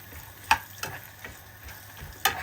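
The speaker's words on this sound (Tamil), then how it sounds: "ஒரு பிஞ்ச் ஆஃப் சால்ட் போட போடுங்க நெய்யில் வறுக்கிறேன்" Food frying in ghee with a pinch of salt, a quiet steady sizzle broken by a few soft stirring clicks and scrapes, close by with no voices.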